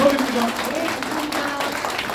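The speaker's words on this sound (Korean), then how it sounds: "힘찬 박수 해주시겠습니다" Brief audience applause at a Korean presidential candidate's policy speech meeting, a short burst of mixed clapping that starts along with a speaking voice and carries on at a moderate level.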